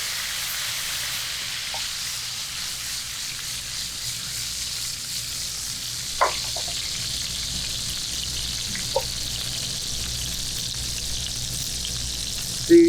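Wholey's fresh gourmet salmon fillet pan-searing in a frying pan, an even, moderately loud hiss and sizzle held throughout, with a few brief clinks and taps and no talking.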